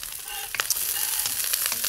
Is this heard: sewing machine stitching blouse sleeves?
no